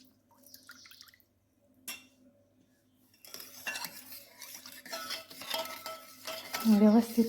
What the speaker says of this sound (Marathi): व्यवस्थित हलवून घ्यायचं आहे